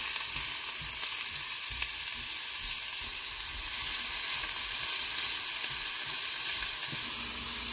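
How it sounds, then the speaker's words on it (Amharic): Chopped half onion frying in a little oil in a pan while making meatballs, a steady close sizzle and crackle running the whole time with no voices. "ስለዚህ ዘይቱ እስከሚግል ጠብቅና ደቆ የተከተፈ ግማሽ ሽንኩርት"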